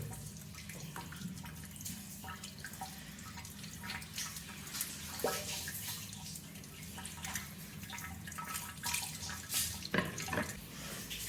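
Soapy water poured and splashing over a body during a washing simulation, with continuous trickling and dripping like a running tap, steady and moderately close, with brief louder splashes.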